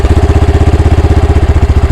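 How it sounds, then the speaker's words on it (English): A Honda Grom motorcycle engine with an erratic idle runs loud and close, its low, steady pulsing beat wavering slightly as the revs surge. "because you can hear it surging, I'll start turning it down"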